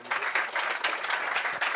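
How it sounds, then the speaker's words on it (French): Brief burst of audience applause at an artificial intelligence conference, dense clapping that swells and flickers in uneven waves. "Je vous demande de l'applaudir."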